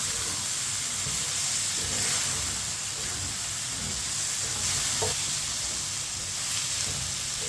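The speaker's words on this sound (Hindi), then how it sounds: "सब्ज मिर्च और टमाटर को मिक्स कर लेंगे।" Chopped tomatoes and green chillies sizzle steadily in a pan with a broad, hissing fry, punctuated by occasional soft stirring scrapes; no voices.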